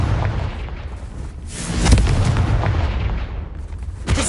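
The Confringo explosion spell going off in the video game Hogwarts Legacy, a loud booming blast with rumbling debris that surges and fades, then a further thud, with no talk over it.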